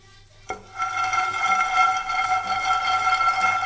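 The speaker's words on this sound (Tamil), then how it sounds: "நான் வந்து ஒரு 50 கிராம் வேர்க்கடலை எடுத்து இந்த பேனில் போட்டு நல்லா நம்ம வறுத்துக்கலாம்" About 50 grams of peanuts dry-roast in a pan, with a sudden clatter as they drop in, followed by a continuous dry rattling and scraping as they are stirred, loud and close.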